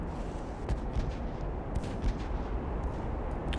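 Naval guns from Ultimate Admiral: Dreadnoughts thunder in a dense rumbling barrage of heavy booms and distant impacts, continuous and loud throughout with no speech.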